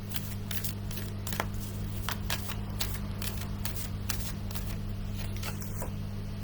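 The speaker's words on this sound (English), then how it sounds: "As I was shuffling those cards" A deck of oracle cards is shuffled close by in a quiet room, giving a run of soft, irregular riffling flutters and snaps over a low steady hum, with no one speaking.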